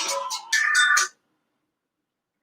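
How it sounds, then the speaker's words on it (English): A phone ringtone sounds in a short burst of bright electronic tones lasting about a second, close and clear, followed by silence. "I had no idea the phone was on."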